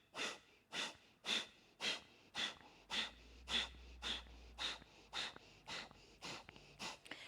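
Kapalabhati yoga breathing during a vinyasa flow: a steady series of about a dozen sharp, forceful nasal exhalations at roughly one per half second, close and clear, with quiet passive inhales between and no speech.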